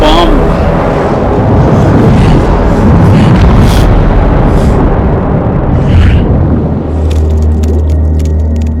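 A bomb detonates in Death Stranding 2 during a boss battle, a dense rumbling blast with crackling debris that rolls on for several seconds, loud and close, with a voice speaking over the low roar.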